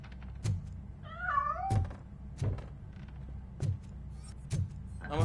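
A cat meows once in a rising, wavering cry amid a run of evenly spaced dull thunks in Robocop: Rogue City, the meow mid-level over a low steady hum.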